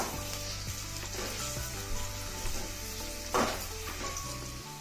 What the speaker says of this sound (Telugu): రెండు ఉల్లిపాయలు నూనెలో వేసి త్వరగా వేగనిద్దాం